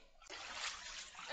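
Water splashes and sloshes as someone swims in a cold outdoor pool, a brief burst of close, noisy splashing.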